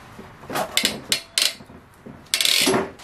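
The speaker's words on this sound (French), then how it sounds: "passer au sertissage du raccord sur le multicouche. Là qu'on vérifie qu'on est bien placé et il n'y a plus qu'à serrer." A hand crimping tool presses a fitting onto multilayer plumbing pipe, giving a series of sharp ratcheting clicks and mechanical clacks in uneven bursts, close up and fairly loud, ending with a longer grinding squeeze.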